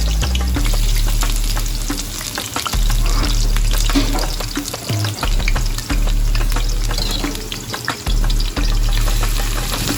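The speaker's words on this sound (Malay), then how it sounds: "Mula-mula kita tumis bawang putih, halia dan separuh daripada bawang merah yang kita potong tadi sehingga wangi dan naik bau." Garlic, ginger and shallots sautéing in a pan for a Palembang-style beef rendang, giving a loud, continuous sizzle and crackle with occasional stirring scrapes throughout.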